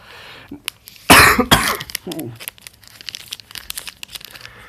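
A sharp, loud cough bursts out close by, followed by a second rougher cough, then scattered crinkling and small handling noises.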